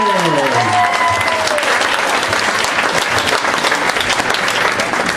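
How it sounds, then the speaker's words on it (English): An audience at a football and cheerleading awards banquet applauds a player, with dense steady clapping that fills the whole stretch while a voice speaks briefly over the start. "Let's give him a big round of applause for number 91, Michael Peppertini Wilson"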